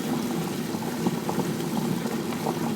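A wet grinder grinds rice and green gram into dosa batter with a steady, continuous churning whir. A faint watery slosh runs under the drone, with no pauses and no one speaking.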